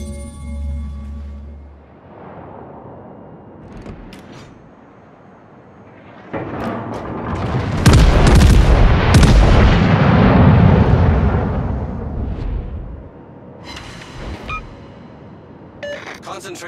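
Naval guns fire from warships in World of Warships, with heavy booming salvos and a long rolling barrage in the middle, some blasts close and loud, and in-game voice callouts over the action.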